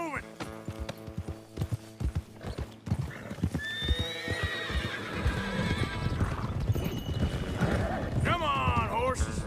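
Horses in the Western video game Red Dead Redemption 2 clip-clop along in a steady trot, with several whinnies and neighs rising above the hoofbeats, close and loud, as someone speaks over them.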